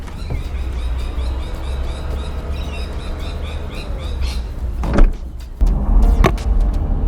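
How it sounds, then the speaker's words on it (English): Power tailgate on a VW Touareg Monochrome V6 diesel closing at the touch of a button, a steady electric motor whir running for several seconds, then a firm clunk as it latches, followed by a brief second latch sound. "just touch the button on the top and the door closes"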